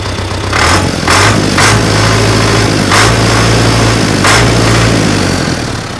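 An MTZ tractor engine with a repaired exhaust pipe idles steadily up close with a low, even rumble, punctuated by a few brief sharper puffs.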